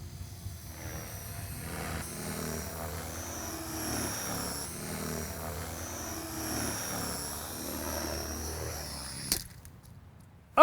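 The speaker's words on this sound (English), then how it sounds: "Now let's do some consecutive rolls, check the aileron to throttle mix." Steady engine drone of an RC aircraft flying consecutive rolls, holding at moderate loudness with slight surges, then a sharp burst near the end.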